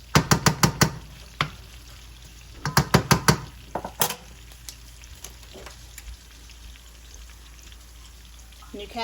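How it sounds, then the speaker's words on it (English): Mushrooms and garlic sautéing in a pan with olive oil, a soft sizzle under clusters of sharp clicks and taps from stirring and utensils, loud near the start and fading to a quieter crackle. "So we're gonna saute the mushrooms, the garlic, for about 2 minutes."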